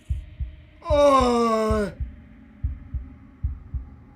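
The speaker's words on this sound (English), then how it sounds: "a wooden and fleshy heart beating with an unbroken rhythm" A wooden and fleshy heart from the game Slay the Princess thumps in a slow, even, unbroken rhythm of low heavy beats, loud and close, while a voice briefly speaks over it.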